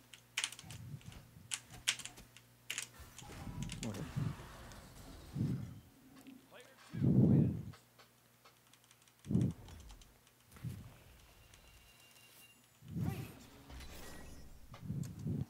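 Keys clacking on a computer keyboard in bursts during a ranked online game, with someone talking and groaning over and between the typing in a quiet room.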